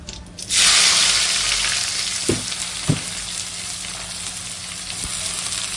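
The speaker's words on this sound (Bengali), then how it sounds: "পেঁয়াজগুলো দিয়ে মোটামুটি এবার সুন্দর করে নাড়াচাড়া করে একটু ভাজবো লাল লাল করে ভাজবো" Sliced onions hit hot oil in a pan and break into a loud, steady sizzle that slowly settles, with a few sharp clinks of stirring.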